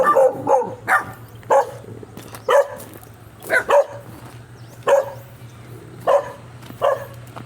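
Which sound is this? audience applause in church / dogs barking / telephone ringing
dogs barking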